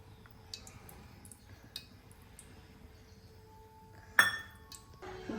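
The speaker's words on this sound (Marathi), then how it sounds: "कढई ठेवली आता गॅसवर." A metal kadhai set down on a gas stove with a sharp close clink and clatter, preceded by faint small clicks of kitchen utensils in a quiet room.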